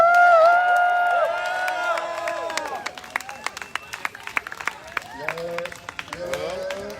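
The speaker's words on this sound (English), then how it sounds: "Clap it up for Xavier!" A community gathering at an abolition park cheers and claps for Xavier, opening with loud whoops and shouts, then scattered individual claps and hand slaps continuing as voices call out over them.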